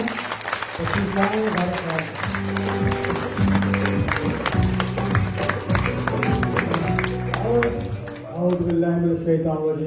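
A crowd at a political party meeting of Karachi town office-holders claps continuously throughout, the broad rattle of applause running beneath a voice speaking over it until near the end.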